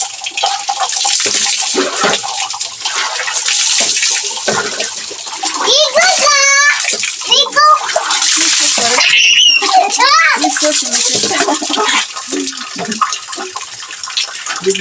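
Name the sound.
water running and splashing as a child bathes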